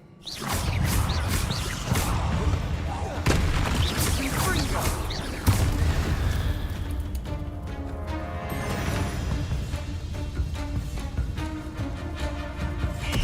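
Bombarda explosion spell in Hogwarts Legacy, with loud booming blasts, whooshes and crashing debris layered over game music and effects, continuous and dense throughout.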